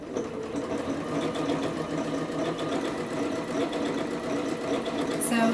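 A sewing machine runs steadily, stitching overcast stitches on knit fabric, with a close, continuous mechanical whir and rapid needle rhythm throughout.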